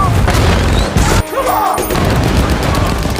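Tank cannon and machine-gun fire in a war movie battle against German troops: a dense, loud barrage of booms and rapid shots, with a brief sharp drop around the middle before the heavy firing resumes.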